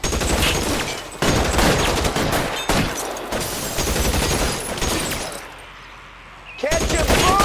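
Gunfire shootout in the video game L.A. Noire, with dense rapid bursts of shots filling nearly the whole stretch, loud and close, a brief lull near the end before firing resumes, and voices shouting over it.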